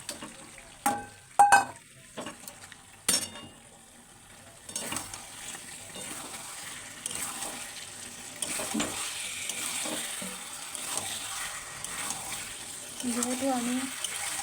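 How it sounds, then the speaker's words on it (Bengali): Meat goes into a pan of oil-released fried masala for a thin meat curry, bringing a steady close sizzle with stirring clatter and a few sharp knocks at the start, while a voice talks over it. "এবার আমি দিয়ে দেবো মাংস।"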